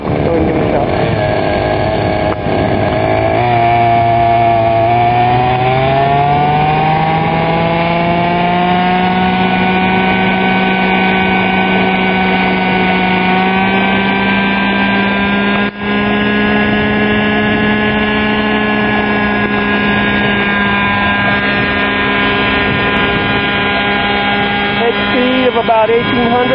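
A small high-revving engine on a stretched G20 model helicopter with a modified engine, three-shoe clutch and 696mm main blades whines steadily, its pitch climbing early on and then holding a sustained buzzing drone, close and loud throughout.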